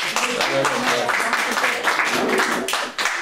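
Audience applause at a Purim evening gathering, a dense, fairly loud wash of clapping that runs the whole time, with voices faintly audible beneath it.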